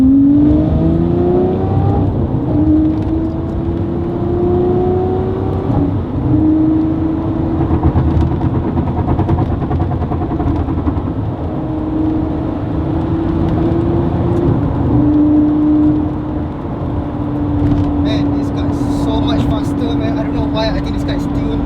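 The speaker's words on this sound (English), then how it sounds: "That hum from the engine behind me." A tuned Lamborghini Murcielago engine hums steadily while driving around Kuala Lumpur, with rising and falling revs and gear shifts, loud and continuous beneath occasional talk.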